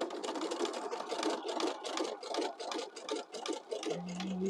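A sewing machine stitches zigzag around a paper envelope belly band in a rapid, close, even chattering rhythm. It runs steadily with short pauses and ends with a low hum.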